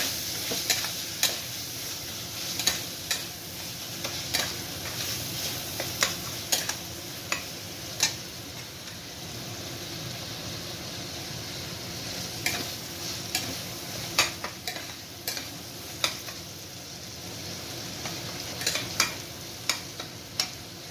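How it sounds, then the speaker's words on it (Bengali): A spoon stirs turmeric through a sizzling pan for Bengali chicken keema, with a continuous soft frying hiss and repeated light clicks and scrapes against the metal over about twenty seconds, no voices. "তারপরে একটু হলুদ দিলাম, নাড়াচাড়া করে দেবো"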